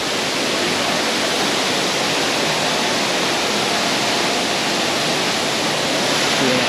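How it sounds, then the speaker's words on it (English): The big waterfall at Sungai Pandan in Kuantan, Malaysia, roars with a dense, continuous broadband rush that stays close and steady throughout, with no voices. "Now we got the big, beautiful waterfall."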